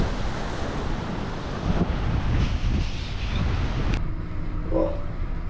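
Strong wind buffets the microphone on a beach in Spain, a broad roaring rush with gusts whipping sand about, steady and loud throughout with a brief drop near the end.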